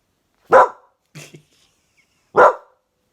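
A dog barks out the window at another dog: two sharp, loud barks about two seconds apart, with a softer short yelp between them and silence around them.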